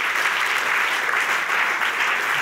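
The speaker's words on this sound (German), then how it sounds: "Geben wir doch Ihnen einen lauten Applaus aus dem Kalkofen raus." Sustained applause from a church congregation after a sermon, a dense steady clapping that fills the whole stretch without voices over it.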